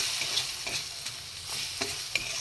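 Potatoes sautéing in a pan with turmeric, sugar, grated ginger, cumin, coriander, chilli powder and chaat masala, a soft steady sizzle broken by light scraping stirs of a spatula, quiet and close with no talking.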